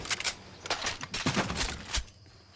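Video game gunfire as bullets are shot through walls, a loud close burst of rapid repeated shots and cracks that stops abruptly near the end, with no voices.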